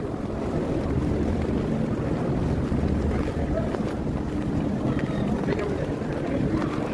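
Steady, roaring wind buffets the microphone outdoors at a cold Christmas market, a broad continuous rumble that never lets up across the whole stretch.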